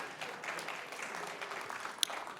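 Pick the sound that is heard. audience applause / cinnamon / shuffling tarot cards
audience applause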